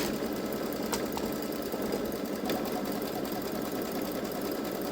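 A Babylock Solaris embroidery machine stitches a word onto a T-shirt, giving a steady, continuous mechanical whir with a few faint clicks throughout, fairly loud and close.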